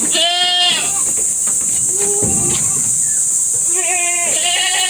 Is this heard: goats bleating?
yes